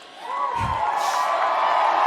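A wrestling arena crowd cheers and applauds, a broad roar that swells and holds steady under a voice speaking over it.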